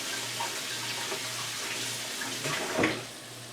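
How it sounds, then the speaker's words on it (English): Hands being washed at a kitchen sink under a running tap, a steady close stream of water with a slight splash near the end. "Washing my hands."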